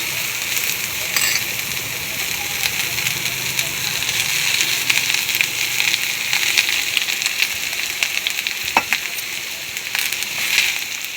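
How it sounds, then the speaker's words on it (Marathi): Chopped onions frying in oil in a pan for sev bhaji, a steady bright sizzle and crackle continuing throughout, with a few louder pops and a faint voice underneath. "कांद्यात थोडे तेल घालून घेऊ"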